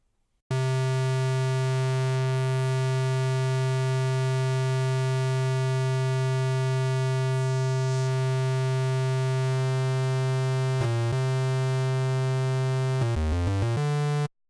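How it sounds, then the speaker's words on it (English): A buzzy, slightly distorted rounded-square wavetable tone from the Serum synth holds one steady pitch for about thirteen seconds, loud and alone, then near the end a few quick pitch bends and sweeps before it cuts off. "instead of having this really clean square, we have this slightly rounded square. And it has a nice distorted sound."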